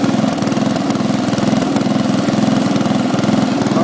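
A riding lawn mower tractor engine idles steadily and close by, a continuous throbbing mechanical drone with a rapid, even pulse and no talking.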